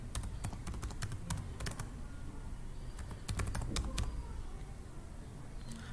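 A Wi-Fi password is being typed on a computer keyboard, heard as quick clusters of crisp, close key taps with short pauses between bursts over a quiet room hum.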